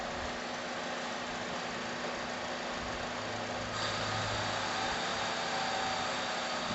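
A Honda CR-V engine with a slow, jerky, slipping transmission idles steadily at close range, a low continuous hum with a faint rise in tone partway through, no voices.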